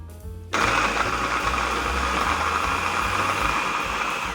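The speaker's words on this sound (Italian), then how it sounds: "Chiudiamo il coperchio e frulliamo bene." A blender whirs into action after a short pause, blending grated garlic for kimchi with a loud, steady high-speed motor hum and churning that continues without letup.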